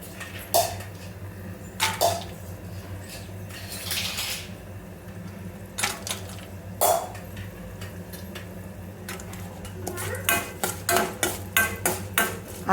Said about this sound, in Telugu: మనం దీంట్లో పల్లీలు యాడ్ చేద్దాం.